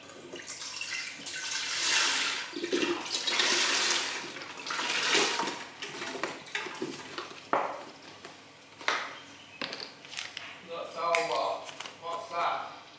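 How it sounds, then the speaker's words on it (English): Chicken stock pours into a cooking pot in a home kitchen, a splashing liquid gush that rises and falls in several surges, with people talking over and between the pours. "just put all the stock in the pot."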